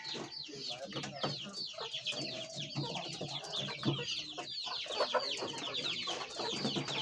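A flock of hens feeding on discarded cabbage leaves on a farm in Nigade, Dapoli, in Konkan, keeps up a dense, continuous chorus of close clucks and squawks.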